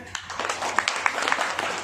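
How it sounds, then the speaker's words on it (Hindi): Crowd applause for Karni Mata at a devotional gathering: a short, dense burst of many hands clapping, fairly steady and close, with no talk over it. "फिर तो करनी माता के लिए तालियां हो जाए"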